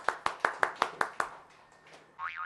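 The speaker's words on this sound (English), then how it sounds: "Round of applause for Bryson Lang" Seven quick, evenly spaced hand claps ring out close by for about a second, then fade into quiet room sound, with a faint voice starting near the end.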